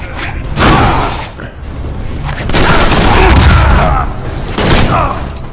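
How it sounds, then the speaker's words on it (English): A burst of gunfire unloads in the Injustice fighting game as a mana burn attack, loud booming thuds and rapid shots stacked in heavy waves over game sound. "You can actually use his mana burn to just unload bullets on your enemies"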